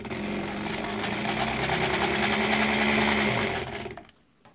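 Sewing machine stitching improv quilt pieces, running in one steady, fast, continuous burst that stops abruptly near the end.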